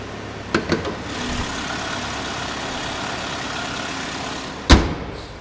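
A Chevrolet Malibu engine idles steadily with the hood open, a smooth even rumble throughout, broken by a couple of light clicks early on and a sharp thump near the end.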